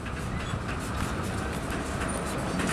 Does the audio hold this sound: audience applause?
no